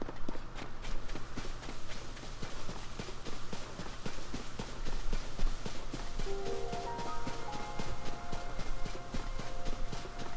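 Steady clip-clopping of horse hooves in The Legend of Zelda: Tears of the Kingdom keeps a brisk rhythm throughout, with a soft musical backdrop and faint chimes.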